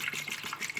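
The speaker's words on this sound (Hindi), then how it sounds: "अब हम इसमें डालेंगे पानी।" Water pouring steadily into a pressure cooker holding beef trotters, a continuous splashing gush heard close up and alone.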